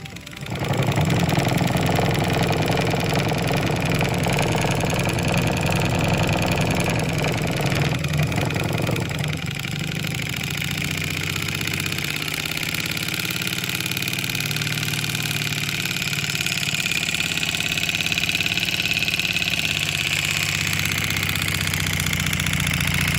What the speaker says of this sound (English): So then I'll finish off with a video of it running.